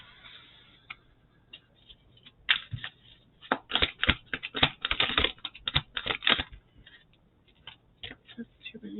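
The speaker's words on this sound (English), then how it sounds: "These bigger decks are so hard to shuffle." A large tarot-style card deck is shuffled close up, with bursts of fast papery riffling and clicks in uneven clusters, then quieter taps toward the end.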